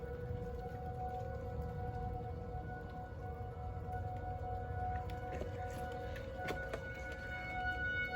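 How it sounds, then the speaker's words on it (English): Tornado sirens wail in the distance as a faint, steady sustained tone over a constant low rumble of background noise, with no talking. "I hear lots of sirens."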